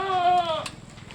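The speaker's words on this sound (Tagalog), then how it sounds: "Grabe ang mga kambing doon, dami oh." A single close goat bleat, loud and wavering, rises from a crowded goat farm holding hundreds of goats. It lasts about half a second before fading into quiet background rustle.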